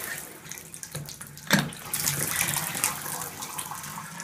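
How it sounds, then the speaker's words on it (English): A hotel shower runs at strong pressure, a steady close hiss of spraying water with one brief knock partway through and no voices. "Good pressure there."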